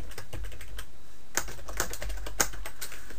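A handful of keystrokes on a computer keyboard: sparse, crisp clicks spaced irregularly over a steady low background hum.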